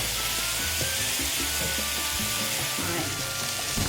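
Three large red onions and two heads of garlic sizzle and fry steadily in a pot for curry goat, with a continuous close hiss and occasional stirring knocks.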